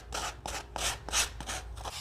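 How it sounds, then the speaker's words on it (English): A sanding block rasps back and forth over the cut ends of a Dollar Tree wooden craft piece, giving roughly six or seven steady, close scraping strokes in an even rhythm. "So I like to use a sanding block. So I'm just gonna sand away."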